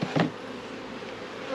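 Bees at a hive during beekeeping smoker use make a soft, continuous buzz, with a brief louder burst near the start and the faint hum carrying on steadily with no voices.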